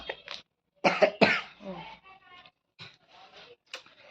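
A child coughs several times in quick, harsh bursts close to the microphone, with short pauses between the fits.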